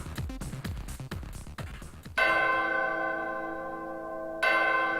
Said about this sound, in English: door opens if you ring the bell?